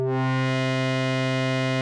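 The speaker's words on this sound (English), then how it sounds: "that's the original FM sound, very basic FM sound" A very basic FM synthesizer patch holds one steady, bright, buzzy tone with a dense stack of even harmonics, loud and unchanging for about two seconds, with no voices.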